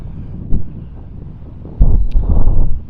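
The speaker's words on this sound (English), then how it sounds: "Oh, it's got windy again." Gusts of wind outdoors beside a canal buffet the microphone in loud low rumbles, one short blast early and a longer sustained one toward the end.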